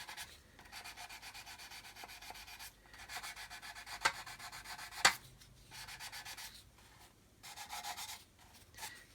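Sanding small antennae off a plastic model kit by hand, a steady scratchy rubbing in repeated strokes with brief pauses and a couple of sharp clicks, close and moderately quiet.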